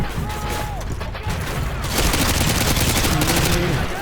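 Gunfire in the video game Call of Duty Modern Warfare 2, dense rapid automatic bursts and shots crackling continuously with booms, the firing intensifying in the second half.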